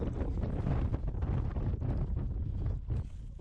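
Cold wind rushes hard over a mountain trail near 14,179 feet, a loud, low, continuous buffeting against the microphone with gusty surges and no voices.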